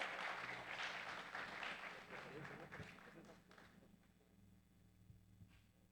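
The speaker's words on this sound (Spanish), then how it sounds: "qué les parece si lo recibimos dándole un aplauso a Dios por la vida de nuestro hermano Daniel" Congregation in a church applauding for brother Daniel, a loud wash of clapping that fades over several seconds into a quieter room hum with a few scattered claps.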